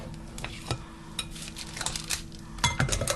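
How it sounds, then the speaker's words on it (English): Cheesy garlic biscuit dough is scooped from a bowl onto a baking sheet, with soft metallic clinks and scrapes of the scoop against the bowl and pan arriving in irregular bursts, close and fairly quiet. "I'm just going to scoop these biscuits onto the baking sheet."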